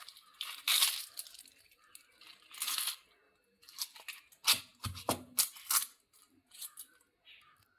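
Crisp pappadam crushed into a chammanthi, probably with a stone, giving irregular dry crunching and crackling bursts with pauses between them.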